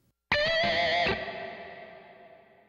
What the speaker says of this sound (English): let's try something like an EMT plate emulation